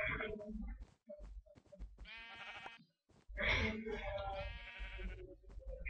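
Sheep in a survival video game bleat in two long, wavering calls, loud and close, with short clicks and game sounds between them.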